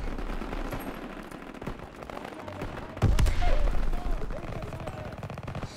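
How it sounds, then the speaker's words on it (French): Rapid bursts of gunfire in the video game Call of Duty: WWII crackle in the background, getting louder and heavier halfway through, amid a noisy, chaotic scene. "J'entends des coups de feu!"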